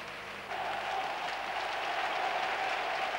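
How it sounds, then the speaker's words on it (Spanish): Stadium crowd applauding at the end of a 1989–90 Real Oviedo v Atlético de Madrid football match, a sustained wash of clapping that swells in and holds steady, broad and distant. "Final con aplausos compartidos y con Jesús Gil protagonizando la otra cara"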